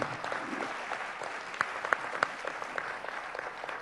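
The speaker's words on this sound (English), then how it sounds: "Ask for a special round of applause for our moderator, Jack Levine." An audience claps for a moderator at a panel on four-generation families, a steady round of applause with a few sharper close claps standing out partway through.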